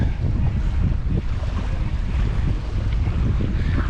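Strong, steady wind buffeting the microphone on a beach in Jamaica while fishing rods sit set up, a loud continuous rumbling roar with surf noise beneath and no voices.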